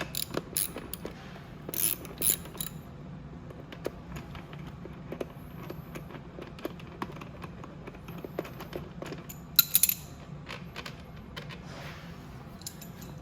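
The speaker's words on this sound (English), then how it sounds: "So I'm just gonna get and grab my socket here and we'll get started." A socket wrench works 10 mm bolts loose on a 50cc automatic motorcycle during an ignition replacement, giving quiet irregular metallic clicks and ratcheting taps with a few louder clanks, close by and without talk.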